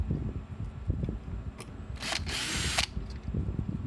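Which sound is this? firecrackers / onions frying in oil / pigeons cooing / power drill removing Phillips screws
power drill removing Phillips screws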